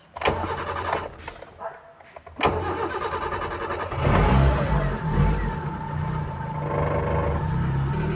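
A car engine cranked with the key fires up after a brief whir, then settles into a steady idle close by, while the handbrake is on and the gearbox is in neutral.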